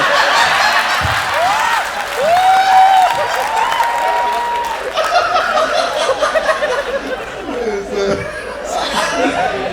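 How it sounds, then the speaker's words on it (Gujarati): A comedy show audience laughs and applauds for comedian Devang Patel on The Lavari Show. Clapping and chuckles swell around a host speaking over the crowd. "A big round of applause for Thank you. Devang Patel."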